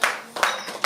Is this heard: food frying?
no